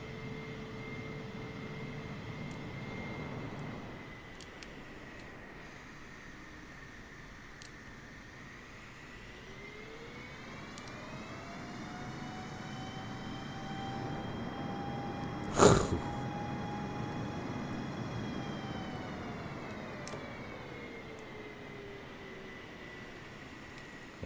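Airplane engine in a flight video game, a steady drone with a rising and falling tone as the aircraft readies for takeoff, with a brief sharp burst midway.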